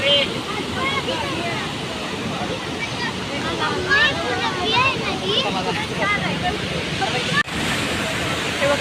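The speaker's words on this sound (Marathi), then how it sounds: "हा भाग आहे तो धबधबा" The Ozarde waterfall near Satara, India, roars with a steady rush, filling the scene while people talk over it.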